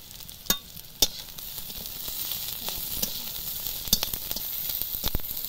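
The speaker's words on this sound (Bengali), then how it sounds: "এবার থেঁতো করে রাখা রসুনগুলো দিয়ে দেব।" Crushed garlic hits lightly browned onions frying in a little oil, giving a steady sizzle with a few sharp clatters of stirring in the pan, close and clear with no talking.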